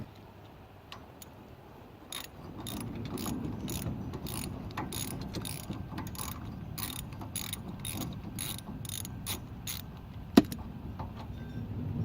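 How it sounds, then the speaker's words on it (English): Rapid ratcheting clicks from a socket wrench loosening the bolt on the foot of a travel trailer's electric tongue jack, a steady run of close, evenly spaced ticks lasting several seconds, with one sharper knock near the end. "there is a bolt in the bottom, which I'm just gonna end up loosening and taking this foot off"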